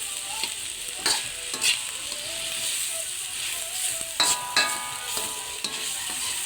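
Pork for menudo frying in its own rendered fat, a steady close sizzle broken by repeated clacks of a spatula stirring and scraping the pan.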